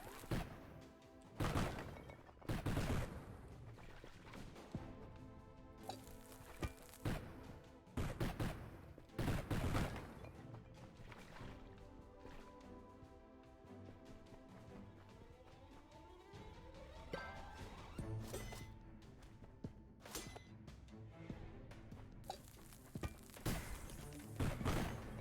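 Bombs blasting in the roguelike dungeon game Undermine, a series of loud booming thuds and crashes scattered across the stretch amid game music and clattering debris, with a voice talking over parts of it.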